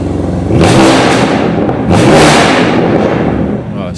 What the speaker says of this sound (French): Là on entend le son métallique du silencieux d'origine